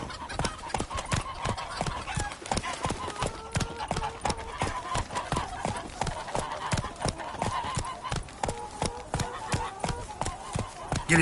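Horse hooves gallop in a fast, steady clip-clop in The Witcher 3: Wild Hunt, the sharp hoofbeats close and continuous across the whole stretch, with a few voiced sounds mixed in.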